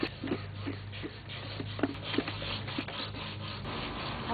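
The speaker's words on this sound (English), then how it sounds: "now we've finished sanding" Sandpaper rubs back and forth over a wooden chair by hand in steady, even strokes, close and fairly soft, with no one talking.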